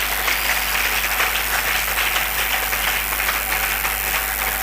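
A church congregation applauding in worship, sustained crowd clapping filling the room steadily over several seconds with a low hum beneath and no speech.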